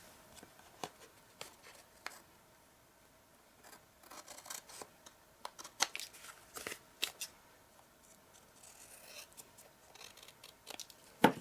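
Scissors trim the paper ends while making a pop-up party cake card, giving scattered, close snips and light paper rustles with no voices.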